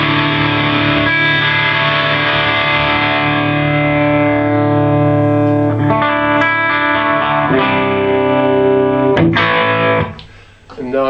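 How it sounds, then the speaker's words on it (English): Loud distorted electric guitar chords played through a Suhr Riot distortion pedal, sustained and ringing, with a few chord changes before the sound drops away near the end. "So if I can go from a really loud distorted chord,"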